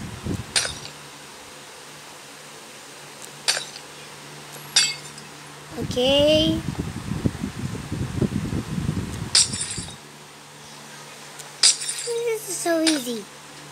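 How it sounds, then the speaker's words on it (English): Glass being smashed in the horror video game Poppy Playtime gives sharp, bright crashes and clinks at intervals, with a longer jumble of shattering in the middle. A player talks briefly between the hits. "I think we have to break the glass first."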